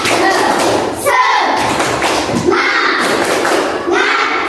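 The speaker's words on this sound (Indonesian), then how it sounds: "Coba tes semangatnya, tepuk semangat" A Grade 4 classroom doing the 'tepuk semangat' clap chant: children's voices chant in unison, punctuated by rhythmic bursts of group clapping and thumps at close range, repeating in short patterned phrases.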